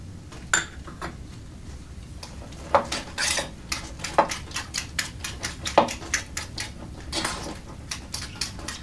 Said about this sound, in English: we got the cream cheese whipped up